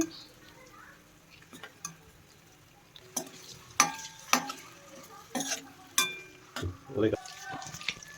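Whole boiled eggs deep frying in a pan for a Telugu egg pulusu while a spoon stirs them, soft oily sizzle under scattered loud scraping knocks and clinks against the pan, with a voice talking faintly now and then.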